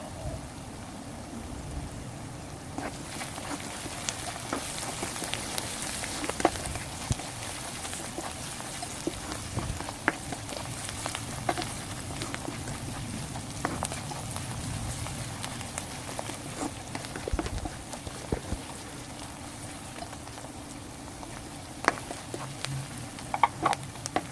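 Shallots and garlic stir-fry in a pan for Thai khao soi nam khua, a steady close sizzle with scattered crackles and utensil scrapes running throughout.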